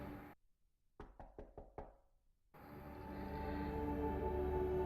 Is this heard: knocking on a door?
yes